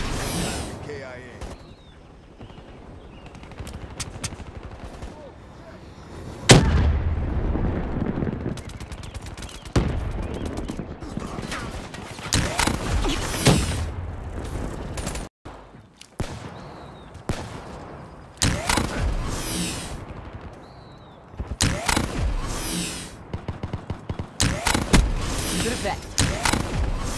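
Mobile artillery barrage in Call of Duty Black Ops, heavy continuous bursts of gunfire and booming impacts layered over game chatter and a talking voice, loud and dense throughout.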